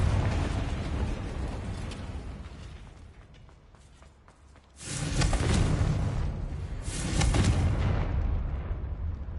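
Confringo fire spell exploding in Hogwarts Legacy: two loud, heavy blasts in quick succession, each a broad roaring burst that lingers and rumbles after a quieter stretch of background game noise.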